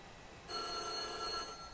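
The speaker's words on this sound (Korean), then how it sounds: "뜨르르 전화벨 소리." An old telephone bell rings with a bright metallic trill in a school setting in the Korean horror video game White Day 2017 remake, starting abruptly after a quiet moment and sounding fairly clear over a faint hum.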